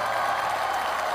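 Studio audience applause, a dense, steady wash of clapping at moderate loudness through the whole brief moment.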